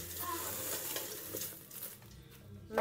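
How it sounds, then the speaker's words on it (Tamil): Spices being stirred into a sizzling stir-fry in a pan, with steady frying hiss and scraping stirs close by, no talking. "இதில் கலந்து கிளறி விட்டுக்கொள்ளணும்."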